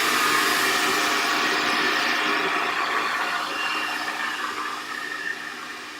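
Hair dryer blowing hair smooth against a big metal-core round brush, a steady close airy whoosh that eases slightly quieter toward the end, no voices over it.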